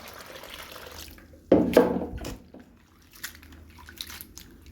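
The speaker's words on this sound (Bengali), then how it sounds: "সুন্দর করে করলাগুলো ধুয়ে নিচ্ছি।" Bitter gourds being rinsed under a running kitchen tap, a soft splashing burst of water in the middle amid quieter background handling.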